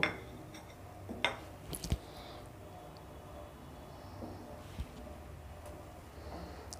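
A spoon stirs milk with almond and cashew pieces and saffron in a pan, heard as faint scattered clinks and scrapes against metal in a quiet kitchen.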